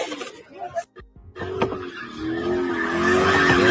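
A car doing donuts at a street takeover at a main intersection in Chicago, tires skidding and squealing in a long rising screech over engine roar, with crowd voices underneath.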